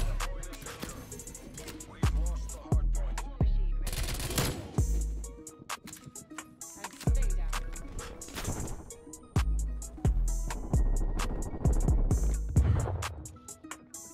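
MAC-10 submachine gun fire in Call of Duty: Black Ops Cold War, with repeated short automatic bursts of sharp cracks in a loose rhythm across the clip, loud and close amid busy game noise.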